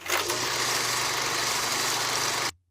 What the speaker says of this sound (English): Old movie projector.